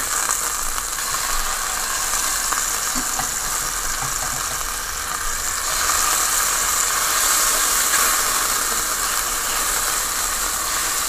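Chicken tenderloin frying in a pan, a steady, even sizzle and hiss that runs unbroken the whole time, fairly loud and close with no voices.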